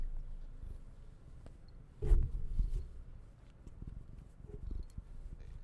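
A male cat purring softly and steadily, close by, a low continuous rumble with a brief louder rustle partway through.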